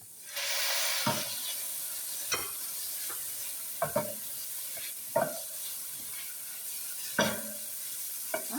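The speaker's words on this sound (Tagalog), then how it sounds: "Haluin lang po natin hanggang sa matiging chicken." Chicken and garlic stir-fry in a pan with a soft continuous sizzle, punctuated every second or so by clinks and scrapes of a spatula against the pan, quiet and close.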